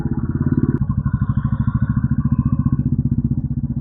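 A motorcycle engine runs steadily close by at night, a dense rapid thrum with one gear change early on and no speech.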